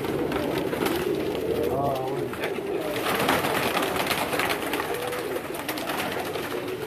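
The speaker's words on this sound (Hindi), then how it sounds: "और ये जी टैडी कबूतर है जी इनका" Teddy pigeons cooing on a rooftop in Karachi, steady soft coos repeating under a constant bed of background noise, with a voice present nearby.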